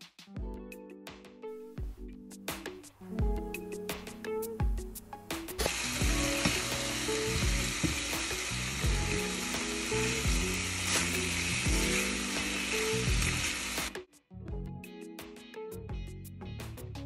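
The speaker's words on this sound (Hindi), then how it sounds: "पैन में जो हमारी मैरिनेटेड चिकन है उसे हम फ्राई करेंगे फॉर ऑलमोस्ट 2-3 मिनट्स" Marinated chicken pieces for butter chicken fry loudly in a pan with a steady broad sizzle, flanked by scraping and clattering of a utensil against the pan before and after.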